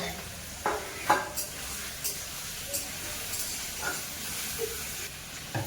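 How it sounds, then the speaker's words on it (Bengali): Onions and potatoes fry in a pan together, with a steady soft sizzle and occasional clinks and scrapes of stirring, heard close up in a home kitchen. "পেঁয়াজ আর আলু যতক্ষণ ভাজতে থাকবো"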